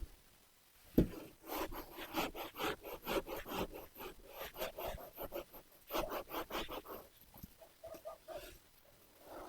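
A marker or chalk rubs across a board in quick, rhythmic scratching strokes, quiet and close, coming in bursts with short pauses between them.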